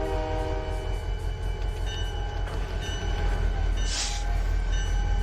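Two GP38 locomotives in the Trainz 12 simulator haul 20 coal cars, a steady rumbling engine drone with tonal harmonics that holds throughout at moderate level, a brief higher hiss rising near the end.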